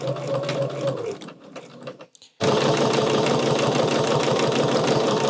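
A sewing machine quilting fabric hums and rattles in a fast, steady mechanical rhythm, pauses briefly with a few soft clicks, then restarts loud and continuous.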